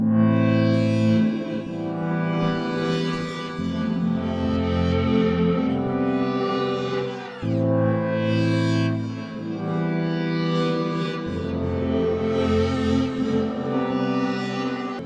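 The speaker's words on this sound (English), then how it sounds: "I'm gonna add another reverb just at the last part, the reflector one." A distorted, sustained music track rings out with a reflector-style reverb added to its closing section, dense tones washing and trailing with echo for the whole stretch.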